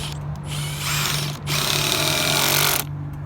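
Power drill driving long screws through a post sleeve into a 4x4 wooden post while installing a Fiberon Brio Rhythm rail, two close, loud whirring bursts separated by a short pause, with no talking.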